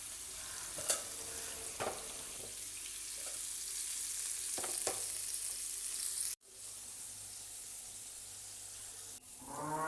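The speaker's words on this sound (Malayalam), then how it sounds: "അങ്ങനെ നെത്തോലിയൊക്കെ വറുത്തു." Faint, steady sizzle of anchovies frying in oil with occasional sharp clicks and scrapes, a brief dropout, then a low hum returning toward the end.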